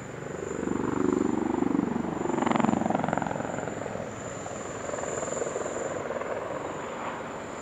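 Aerobatic display aircraft at the Dubai Airshow, flying in a loose line-abreast formation through synchronised pedal turns, a sustained rotor-like roar with a high whine, swelling and easing as they pass at moderate distance.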